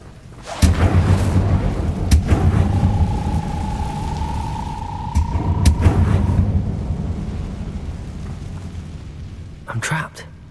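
An Incendio fire spell is cast in Hogwarts Legacy: a deep rumbling whoosh of flame with sharp cracks and a sustained tonal sweep, loud and near, fading out before a brief crackle at the end.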